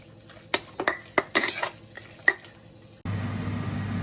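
Mutton keema and raw onion stirred together in a pan, giving a quick run of scraping, clattering spoon strokes with light sizzle for about three seconds, then a steady low hum takes over.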